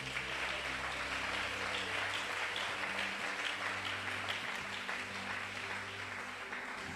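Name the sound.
applause in church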